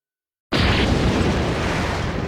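A massive explosion from an anime battle bursts in suddenly after brief silence, then rolls on as a loud, dense, sustained roar with no voices.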